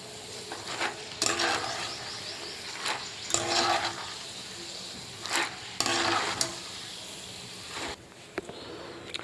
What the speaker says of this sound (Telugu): ఈ పల్లీలని ఈ విధంగా వేయించుకోండి